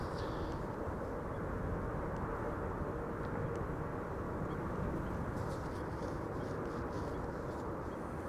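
SLM flight 994, an airliner arriving from Paramaribo, Suriname, lands in a steady broadband jet roar that holds at an even, moderately distant level throughout, with faint bird chirps above it.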